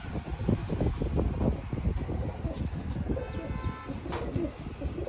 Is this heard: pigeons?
yes